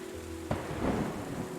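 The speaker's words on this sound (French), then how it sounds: "C'est pour ça qu'il pleut tout le temps" Video-game rain and thunder from Terra Nil: a low thunder rumble rolls in over a steady patter of rain, heard alone with no talk across a short stretch.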